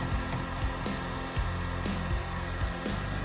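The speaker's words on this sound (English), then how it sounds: "But Travis got this heat gun heated up for me and showed me how to get these letters off" A heat gun blows steadily nearby while stripping old decal letters off a 1988 Sportscraft fishing boat, a continuous whooshing hum with a few low thumps and shifts as the tool moves, and no talking.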